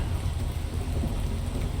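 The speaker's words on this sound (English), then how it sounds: "Always raining in my videos." Heavy, dense rain from the video game Ark Survival Ascended roars continuously with a low rumbling, thunder-like undertone, loud and unbroken with no voices.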